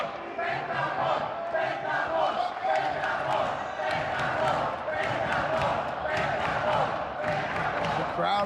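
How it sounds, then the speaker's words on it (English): Wrestling arena crowd roars steadily throughout, a dense wall of cheering and shouting voices with scattered claps and chants, loud and continuous for the whole stretch. "Crowd firmly behind Pentagon Dark."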